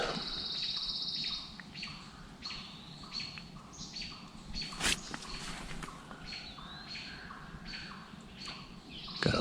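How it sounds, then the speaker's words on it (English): Forest birds in Schoolcraft State Park, northern Minnesota, call loudly at dawn on the longest day of the year, repeated chirps and shrill song phrases coming in bursts throughout, with one sharp knock midway and no talking. "These birds in this forest yell like humans so loud."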